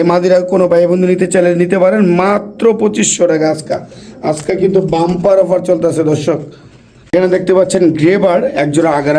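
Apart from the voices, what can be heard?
No distinct noise like a dog, phone or traffic.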